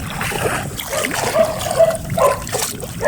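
Feet wade through shallow water with irregular splashes and trickles, close by, and a faint voice is heard briefly.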